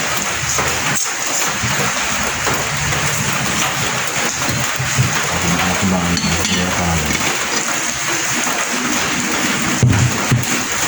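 Steady rain patters over a broad hiss of falling water, with occasional faint clinks and low background murmur.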